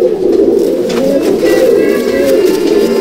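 Panja breed pigeon cooing in a loft, a steady low throaty coo rolling on continuously at close range.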